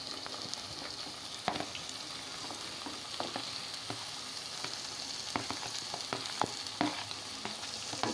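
Tomatoes frying in a pan with a continuous soft sizzle, while a utensil stirs them with repeated scraping clicks and knocks; fairly quiet and close, with no voices.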